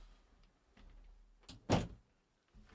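A room door closes with a single soft thunk after faint shuffling, quiet and close, with no talk.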